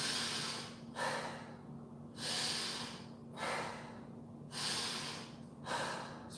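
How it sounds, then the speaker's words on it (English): Slow, deliberate breaths drawn in through the nose during a classic kung fu breathing exercise, with five long airy inhales and exhales in a steady rhythm, close and clear over a faint background hum. "So breathing in through the nose."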